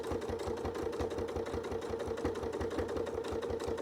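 A sewing machine runs steadily while stitching a curved circle in fabric, its needle producing a fast, even mechanical chatter with a low motor hum, close and continuous, with no voices.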